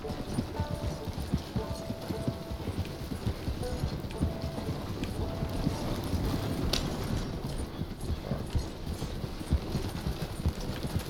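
Steady clip-clop of horse hooves hauling a large trader wagon in Red Dead Redemption 2 Online, a continuous trotting rhythm mixed with wheel rumble and ambient outdoor sound, fairly close and even in loudness.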